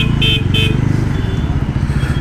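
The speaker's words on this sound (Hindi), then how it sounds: "सो अभी मैं ट्रैफिक बड़े कंडीशन पे हूँ" City traffic around a rider on a 2024 Bajaj Pulsar NS400Z, with the motorcycle engine droning low and close while two short horn toots sound early on amid the road noise.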